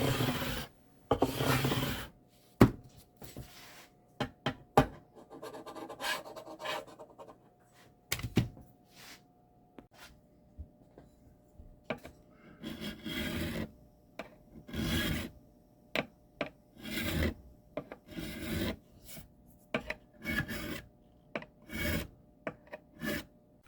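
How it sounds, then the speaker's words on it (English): A file rasps across the frets to level them on a 1966 Thunderbird non-reverse bass neck, with irregular bursts of dry scraping strokes separated by short pauses, close and fairly loud. "Okay, just do a little fret level here and get that out of the way before we move on."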